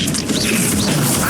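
A Confringo blasting curse strikes in the Hogwarts Legacy video game, a loud, dense crashing impact that fills the brief moment with sustained noisy clatter.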